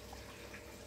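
Steady, soft rush of water recirculating through the mash in a Grainfather S40 electric brewing system during an IPA brew day, continuous and fairly faint.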